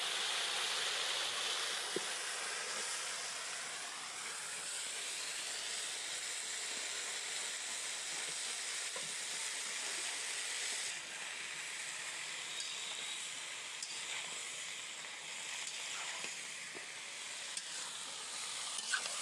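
Greens, flat beans and potatoes sizzle steadily in a frying pan, a continuous broadband hiss that holds near and fairly loud throughout, with a few faint clinks.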